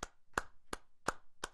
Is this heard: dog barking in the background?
no